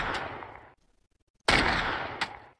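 A Desert Eagle pistol fires in a Roblox game: two sharp, loud shots with a long fading tail, spaced about a second and a half apart and separated by near silence.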